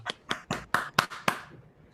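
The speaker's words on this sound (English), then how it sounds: "Let's have a little applause." A small group at a board meeting gives brief applause, about six sharp, separate claps in under two seconds that fade quickly.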